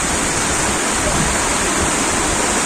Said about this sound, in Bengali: দেখো কেন জোরে বৃষ্টি হচ্ছে